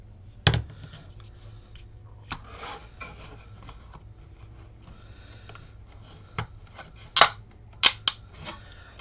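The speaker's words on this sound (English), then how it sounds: "MDF creaking together because it is a very, very snug fit as I manhandle this together" Snug-fitting MDF dice tower pieces being forced together by hand, giving a few sharp creaks and clicks scattered over quiet background, louder bursts near the start and end.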